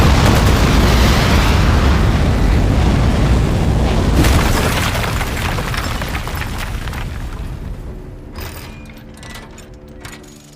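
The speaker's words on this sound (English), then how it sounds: "3, 2, 1. We have liftoff." A rocket liftoff in the video game Aperture Desk Job: a loud, sustained rumbling roar and blast that fills the first seconds, then slowly thins out and fades, with faint mechanical rattles trailing at the end.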